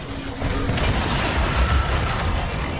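Archwing weapon in Warframe firing and exploding, a dense booming burst with a sustained rumble and crackle that fills the whole stretch at steady loudness.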